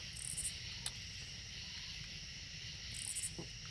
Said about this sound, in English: What you're hearing now is frogs.